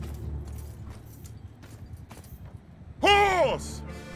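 Horses clip-clopping on the battlefield in Mount & Blade 2: Bannerlord, soft hoofbeats under someone talking, then a sharp horse whinny near the end.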